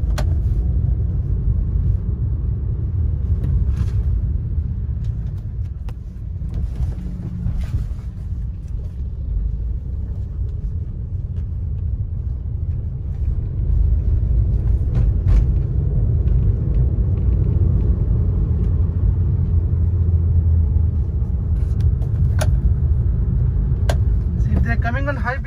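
Heavy trucks rumble past on a remote road at night, a low continuous engine and tire drone filling the whole stretch, steady and fairly close, with someone talking over it now and then.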